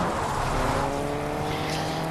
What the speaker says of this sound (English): I keep flipping the car over